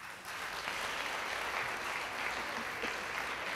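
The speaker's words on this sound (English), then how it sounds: "would you give Father Matt one more round of applause" An audience at a college lecture gives a steady round of applause, a fairly faint, even wash of clapping from a crowd.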